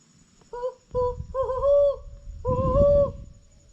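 An owl in Corkscrew Swamp, near Naples, Florida, giving a short series of tonal hoots, several distinct calls rising and holding, fairly close and clear over faint background noise.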